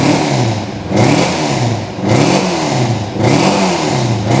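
A Ford Escort rally car engine revs repeatedly, loud and close, with the pitch rising and falling in three or four even surges about one second apart.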